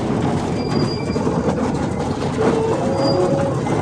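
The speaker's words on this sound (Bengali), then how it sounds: "সফর করছি ন্যারো গেজের টয় ট্রেনে" A small narrow-gauge toy train at the Chennai rail museum rumbles steadily along the track, with continuous wheel noise and brief thin squeals of metal wheels.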